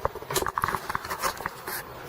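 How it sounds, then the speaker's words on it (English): Rain patters steadily at Elk Lake in the Oregon wilderness on a cold, wet night, with scattered close drops tapping irregularly, likely on a poncho or tent, over a soft continuous hiss. "It's already raining."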